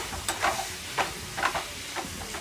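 Tender jackfruit vegetable being stirred in oil in a pan, rhythmic scraping strokes of a spoon over a soft steady sizzle, close up, with no talking.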